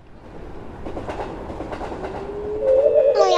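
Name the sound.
train running past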